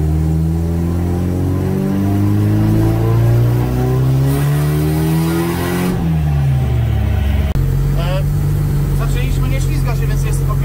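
A Nissan SR20 turbocharged engine running on petrol revs hard in repeated rising pulls, loud and close, with the pitch dropping between runs and a turbo whine and clatter near the end.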